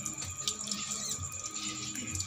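Water runs from a tap in a soft, continuous splashing stream, close by and fairly quiet, with small drips and gurgles.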